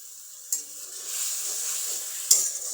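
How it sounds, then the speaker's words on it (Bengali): Fish curry spice paste frying in a pan, a steady hiss of sizzling oil with two sharp utensil knocks against the pan, close and alone. "মশলা ভালো করে কষানো হয়ে গেছে"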